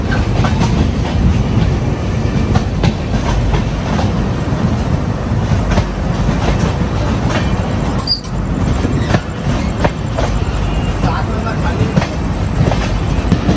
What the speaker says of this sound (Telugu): గూడూరు రైల్వే స్టేషన్ నుంచి మన ట్రైన్ స్టార్ట్ అయిపోయింది